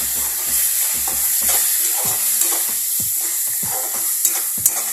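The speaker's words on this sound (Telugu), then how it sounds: "మొత్తం ఒకసారి మిక్స్ చేసుకుందాం." A spoon stirs tamarind leaf powder and coriander powder into a curry frying in a pan, giving repeated scraping strokes over a steady close sizzle, with no voices.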